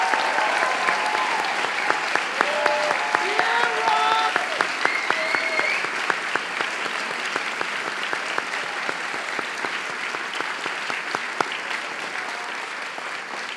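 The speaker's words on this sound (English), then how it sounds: "join me in thanking with a round of applause the extraordinary faculty members who so shaped your Pingry experience" A large crowd at a school graduation ceremony gives sustained applause for the faculty, steady dense clapping with a few whoops and voices rising over it early on, then slowly thinning.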